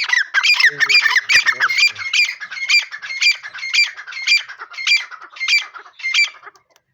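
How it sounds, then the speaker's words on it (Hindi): Village partridges (titar) call in loud, repeated squawking bursts, a rapid overlapping chorus at first that settles into evenly spaced shrill calls about every half second, close by and clear before fading out. "हमारे विलेज के तितर, इनकी आवाज़ सुनने को दिल करता है कि सुनता रहे बंदा"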